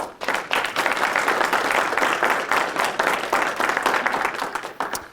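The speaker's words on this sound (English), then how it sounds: "let's give him a round of applause" Sustained audience applause at a mathematics lecture, a dense steady wash of many hands clapping for about five seconds and fading out at the end.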